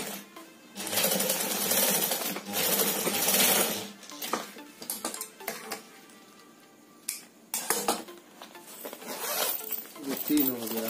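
A sewing machine stitches a cloth shopping bag in several bursts of rapid mechanical chatter separated by pauses and small clinks, with brief talk at times.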